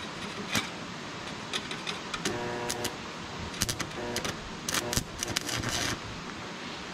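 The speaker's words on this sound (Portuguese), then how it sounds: "Eu vou dar um pinguinho, galera, de solda" Stick welding on a go-kart cross gearshift with damp electrodes beside the fuel tank, giving short uneven bursts of crackling buzz and sputter that start and stop several times at close range.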